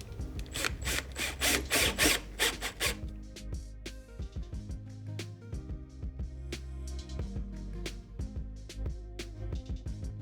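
A power drill drives self-tapping screws into a DIY flexible solar panel frame for an RV, with a loud whirring burst at first, then ratcheting clicks and small mechanical taps close by.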